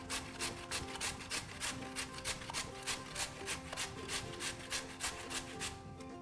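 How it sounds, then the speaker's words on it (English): A peeled potato is scraped back and forth across a hand grater in a steady, even rhythm of close rasping strokes, about three per second, with no talking. "I'm gonna get the potato and grate it like this."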